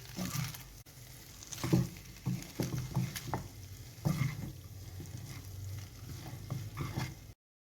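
A spoon or spatula stirs the ingredients of a creamy white pasta sauce in a pan, giving soft scraping strokes in an irregular rhythm over a faint bubbling sizzle, close up and with no voices.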